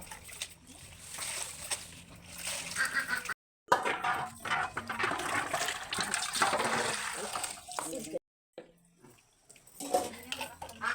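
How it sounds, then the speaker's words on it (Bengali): Jute leaves being washed in water, with splashing and sloshing running almost continuously at close range, broken by two brief silent gaps. "আমি পাট শাক ধোয়ার জন্য চলে এসেছি"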